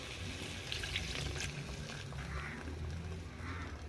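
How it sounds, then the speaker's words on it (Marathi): Water splashes and trickles steadily into a pan of cooking mustard greens, a soft continuous pouring sound with faint clatter. "भाजीमध्ये पाणी घालायचं आहे"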